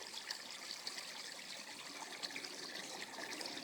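Pond water circulated by a pump trickles and splashes in a steady, close, soft babble with no voices.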